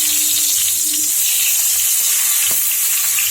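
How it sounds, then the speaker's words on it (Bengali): Eggplant pieces frying in leftover fish-frying oil, a loud, steady, close hiss and crackle of sizzling that holds throughout with a few faint utensil knocks. "এবারে ওই মাছ ভাজার তেলে বেগুনগুলো আমি ভেজে"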